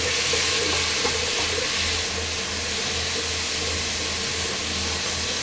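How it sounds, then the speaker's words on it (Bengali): Vegetables for Bangladeshi-style Chinese chow mein frying over high heat, a steady, loud broadband sizzle with a low hum running continuously underneath, no talking. "এর সাথে দিয়ে এটাকে ভাজবো হাই হিটে সব কিছু হাই হিটে ভাজতে হবে"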